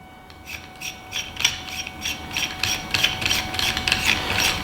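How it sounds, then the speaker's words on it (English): Threaded parts of a Retrofit Optima hookah screwed together by hand, giving a run of close, dry ratcheting clicks and scraping rubs in uneven bursts, with no talking. "Just basically screw this in first, so without the sleeve on."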